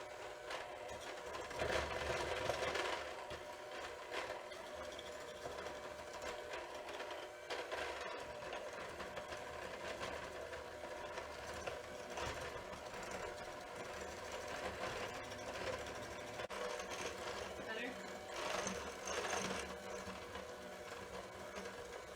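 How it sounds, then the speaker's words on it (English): An electric mixer creams butter and sugar, giving a faint, steady whirring buzz with slight surges in intensity throughout, heard alone at low level. "I use an electric mixer."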